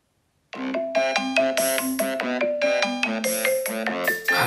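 A telephone ringtone plays loud and clear: a bright, melodic electronic tune of repeated tones that starts abruptly after a brief silence and continues steadily with no voices.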